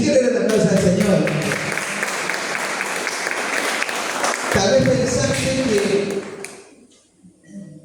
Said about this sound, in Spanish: Si quieren dar la aplauso al Señor.